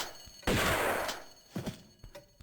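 Gunfire in Tomb Raider 2 Remastered: a loud burst of rapid shots opens, then a few shorter, separate gunshots follow and fade, all without speech.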